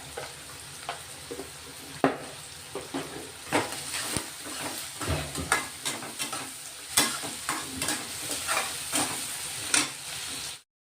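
Onions with salt frying in a pan, a steady loud sizzle broken by frequent scraping stirs of a spoon against the pan, close up and with no talking.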